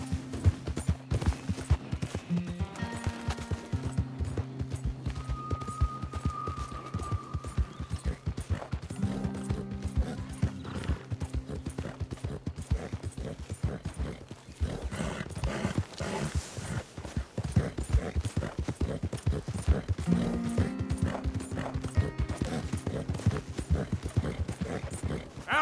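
A horse gallops in Red Dead Redemption 2, its rhythmic hoofbeats pounding steadily under tonal game music, with a brief neigh and some distant gunfire-like cracks mixed in.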